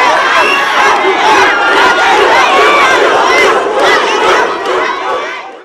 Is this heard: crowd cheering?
yes